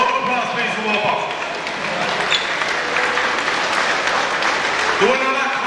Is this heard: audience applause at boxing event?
yes